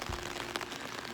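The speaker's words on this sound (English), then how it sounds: "it is really raining out here." Steady rain falling outdoors, a soft, even wash of patter with no voices.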